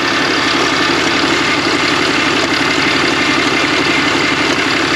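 A diesel engine idles at steady, loud volume throughout, with a constant mechanical drone and faint rhythmic ticking that fits a fault in the pulley system such as the alternator, idler or tensioner.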